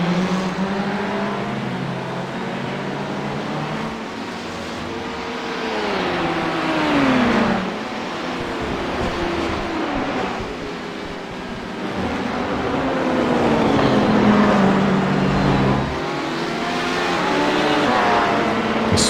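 LMP1 prototypes and GTE sports cars at the Daytona 12 Hours race past one after another with loud engine roars and sweeping pitch shifts, a continuous stream of racing traffic close by.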